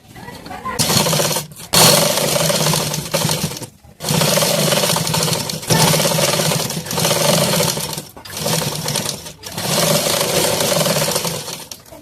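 A sewing machine stitches a katori blouse in quick bursts of rapid mechanical whirring, close and loud, broken by short pauses between runs.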